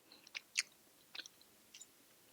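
Someone chews a mouthful of sushi rice close to the microphone, with a few soft, moist crunchy bites spread irregularly over a couple of seconds in a quiet room.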